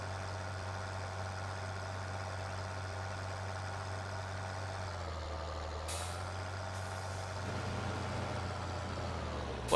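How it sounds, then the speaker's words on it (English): A truck idles steadily in Farming Simulator 2013, its low engine drone running throughout. Partway through, a short, sharp air-brake hiss bursts out, then the engine rumble carries on alone. "Put on brakes."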